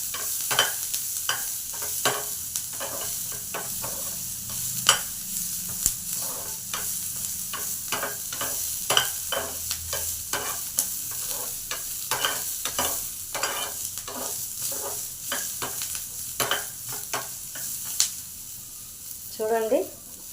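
Onions frying in a pan for fish curry, a constant bright sizzle under frequent, uneven scraping stirs, close by, with faint voices briefly in the background.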